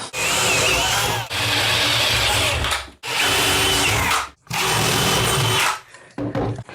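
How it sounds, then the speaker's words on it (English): A power drill bores through a laminate vanity countertop in four loud grinding bursts separated by short pauses, with a few brief bumps at the end. "Drill with a bit that's as big as your jigsaw blade at least."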